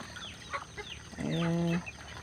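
Domestic ducks and chickens in a simple backyard coop, with scattered short clucks and chirps followed by one louder, drawn-out harmonic call near the middle, close to the listener.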